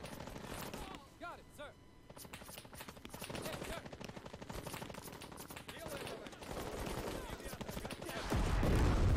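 Rapid bursts of automatic machine-gun fire and gunshots rattle through a battle in Men of War: Assault Squad 2, set in a Cold War campaign, with fire and explosions building louder toward the end.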